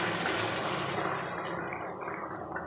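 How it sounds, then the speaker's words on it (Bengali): Water is poured into a pot of cooked mutton in a home kitchen, a steady broadband splash and gurgle that continues close by, then thins and softens toward the end, with no talk over it. "এবার এতে জল দিয়ে দেবো"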